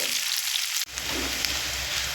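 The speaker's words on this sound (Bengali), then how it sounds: "সঙ্গে দিয়ে দেব একটা মাঝারি সাইজের পেঁয়াজ দিয়ে একটু ভাজা করে নেব" A medium onion fries with chopped garlic in a pan over a medium flame, giving a soft, steady sizzling hiss. The sound cuts out briefly partway through, then resumes more faintly.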